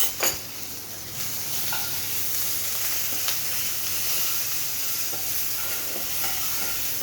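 Green chilli and garlic paste frying with onion in a pan: a steady, close hiss of sizzling oil runs throughout, broken by a few soft stirring scrapes.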